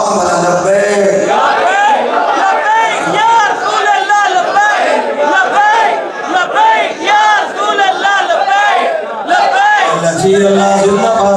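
A large crowd at a religious gathering chants the slogan Labbaik Ya Rasool Allah, with loud massed voices shouting together continuously and a brief dip before the chant surges again.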